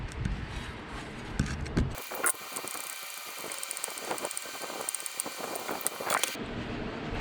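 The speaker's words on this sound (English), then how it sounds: "So I'm gonna go ahead and remove the vacuum pump, or at least loosen it up." Ratchet clicks and mechanical rattling from loosening the 13 mm bolts that hold the vacuum pump on a 7.3 Powerstroke diesel, a steady close run of rapid clicking and metal contact.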